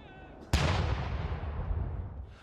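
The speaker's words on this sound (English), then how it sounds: "A 41-gun salute rang out in Green Park" One round of a 41-gun ceremonial salute fired in Green Park, London, for a state welcome: a single heavy boom after a quiet moment, trailing off in a long rumbling echo.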